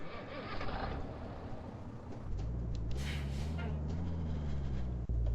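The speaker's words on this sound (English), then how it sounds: "I do like this exhaust noise from this engine" A Peterbilt 351 truck in Euro Truck Simulator 2 fires up after a quiet cab ambience: the engine catches with a brief burst and settles into a deep, steady exhaust rumble, near and moderately loud, with no talking.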